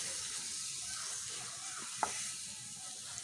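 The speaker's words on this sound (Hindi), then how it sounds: "और इसको भी थोड़ी सी देर इसको इसमें फ्राई कर लेंगे।" Dry fruits for sugar-free laddu frying in a pan, a steady soft sizzle with a couple of brief clicks of stirring, heard alone without voices.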